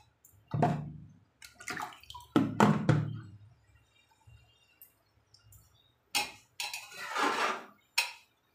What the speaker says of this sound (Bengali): তারপরে জল দেবো।